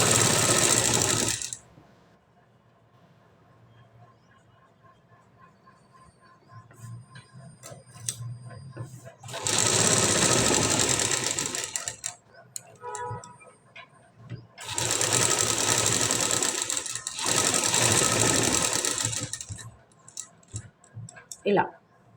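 A sewing machine stitches a decorative back design on a blouse, running in loud bursts of rapid mechanical clatter separated by quiet stretches of small handling clicks, with someone talking during the pauses.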